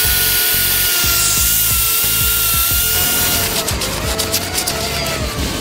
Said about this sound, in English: I've been using a small sander to get in the fine edges and where the floor has been